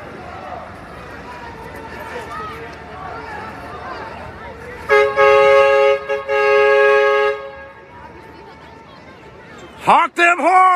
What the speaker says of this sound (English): Honk them horns!